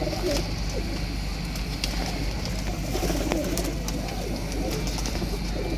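A pair of Shahjahani pigeons coo steadily and close by, soft repeated throaty calls overlapping over a constant background hum, with no talking.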